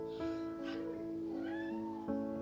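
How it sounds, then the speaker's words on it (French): A cat meows several times in a row, drawn-out and insistent, close by with a steady background hum and no talking. "Mais c'est vraiment un fou ce chat."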